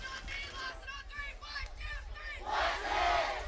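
A stadium crowd at an American football game roars and yells continuously, with a steady broad wash of voices that swells louder toward the end.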